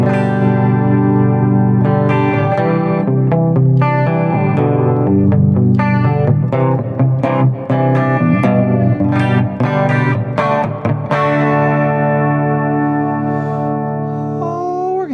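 An electric guitar plays chords and single notes with a shimmering, swirling chorus effect, loud and close, ringing out with sustained tails.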